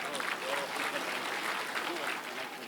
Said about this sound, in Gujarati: તો આપણે તાળીઓથી એમનું સ્વાગત કરીએ